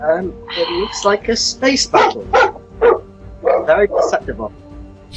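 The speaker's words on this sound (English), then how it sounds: "That was my dog." A dog barks in the background while someone talks, its short yips and woofs mixed in among his speech.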